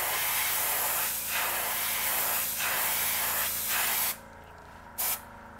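Airbrush spraying pearlized black paint along the back of a fishing lure, a close steady hiss in several slightly swelling passes, then short bursts with quiet gaps near the end.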